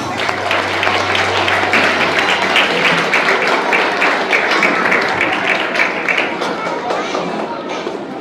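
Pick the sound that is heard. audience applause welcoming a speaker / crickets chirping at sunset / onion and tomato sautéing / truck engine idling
audience applause welcoming a speaker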